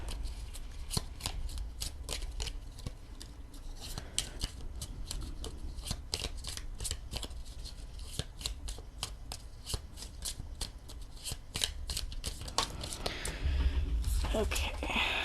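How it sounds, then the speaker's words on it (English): Tarot cards are shuffled over and over in quick, crisp riffling flutters, close and continuous, with a voice heard faintly in the background. "Card fell out, so I'm going to shuffle one more time."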